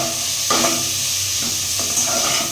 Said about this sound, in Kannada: ಉಪ್ಪು ಹಾಕೊಂಡ್ರೆ ನೀರುಳ್ಳಿ ಬೇಗ ಫ್ರೈ ಆಗ್ತದೆ ಅಂತ